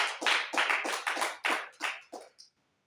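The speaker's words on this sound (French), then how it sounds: "Applaudis une fois encore pour le Seigneur." A church congregation claps at a spiritual revival night in an apostolic holiness church, with about nine loud, uneven bursts of hand claps close by that fade out into silence.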